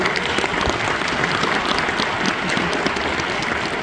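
Audience applause at a school 6th grade band Christmas concert, a dense, steady wash of many hands clapping at even loudness for a few seconds, with no voices over it.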